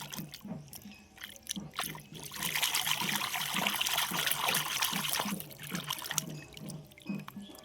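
Water runs steadily from a tap while squid is washed and squeezed by hand, with a continuous trickle and rhythmic wet splashes and squelches close by and no talk.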